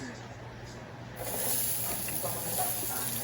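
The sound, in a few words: onion sizzling as it is added to the pan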